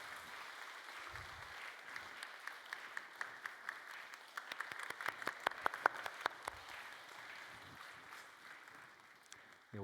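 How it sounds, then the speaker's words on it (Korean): A church congregation applauding during a Sunday worship service, a moderate, steady patter of many hands clapping that swells in the middle and fades toward the end. "우리 들어갈 때도 한번 박수하겠습니다."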